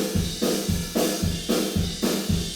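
Full drum kit picked up by a distant ambience room mic placed down a hallway, with steady, evenly spaced kick and snare hits and washy cymbals, the whole pattern sounding roomy and reverberant rather than close.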